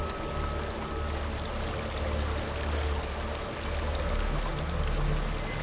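Steady flowing water streams continuously in the video game Hellblade: Senua's Sacrifice, a broad rushing wash with a low rumble, heard alone throughout.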